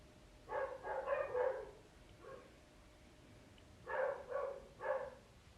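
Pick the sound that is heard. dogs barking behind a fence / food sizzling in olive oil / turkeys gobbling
dogs barking behind a fence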